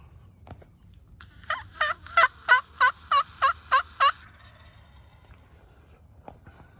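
A wild turkey gobbler on public land lets out one loud, rattling gobble of about eight quick pulses at moderate distance, with quiet outdoor ambience before and after.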